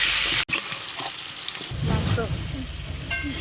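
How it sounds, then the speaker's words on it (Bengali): Potatoes frying in hot oil with a little turmeric, a loud continuous sizzle and crackle after a sharp cut at the start, close up and alone. "এবার আমি তেলটা দিয়ে আলুগুলো ভাজবো।"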